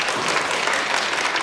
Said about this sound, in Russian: Разрешите переадресовать эти аплодисменты собаке